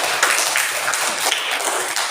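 Children in an elementary school classroom clap together in a dense, steady burst of applause that lasts throughout, close and fairly loud.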